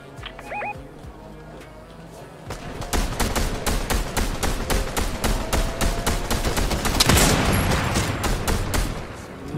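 Rapid gunfire shooting down a wall in a video game, a long, loud, steady burst of shots after a quieter lead-in with a few chirpy game sounds.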